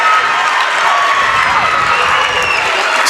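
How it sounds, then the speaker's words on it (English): A high school varsity boys' basketball crowd in a gym roars with loud sustained cheering and shouting after an offensive foul call, a dense wall of voices with no single speaker standing out. "Scarborough crowd is extremely happy."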